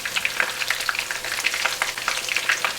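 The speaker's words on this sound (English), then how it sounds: "You can fry it for 5 to 6 minutes, that's it." Chili chicken pieces frying in hot oil, a steady crackling sizzle with bright popping bursts throughout, close and fairly loud with no talking.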